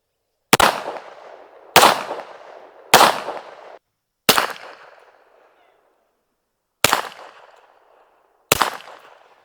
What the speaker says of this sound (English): what we're really here to hear is how this sounds on a 45 ACP and some other firearms